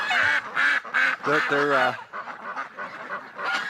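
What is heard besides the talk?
geese and ducks calling in winter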